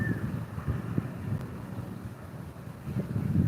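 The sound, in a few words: strong wind blowing outdoors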